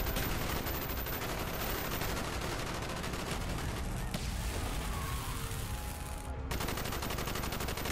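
Gunfire in Call of Duty: Black Ops, dense rapid automatic shooting rattling continuously and loudly, with battle noise filling the mix and a brief drop near the end.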